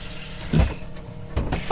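Water runs from a newly installed tap aboard a sailboat during a refit, a close, steady splashing flow with a couple of brief surges.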